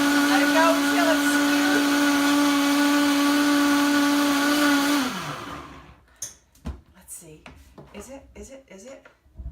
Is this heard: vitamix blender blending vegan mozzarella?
yes